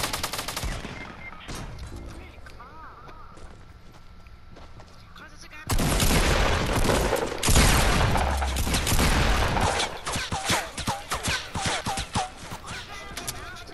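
Rapid gunfire bursts in a Fortnite match crackle and rattle throughout, growing much louder and denser midway as repeated automatic volleys and shots stack up close by, with excited player voices talking over the fighting.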